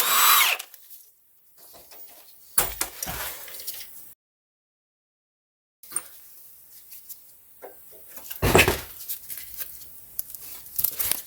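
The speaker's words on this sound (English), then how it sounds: "I'm going to use an impact. This is 18 millimeter socket." Short bursts of an impact wrench with an 18 mm socket hammer at a pulley bolt on a Peugeot Citroen Ford 1.6 HDi engine, loud rattling spurts separated by pauses and silence.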